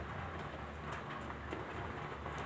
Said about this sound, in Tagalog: Maingay kasi yung patak ng ulan, guys, kasi sa bubong.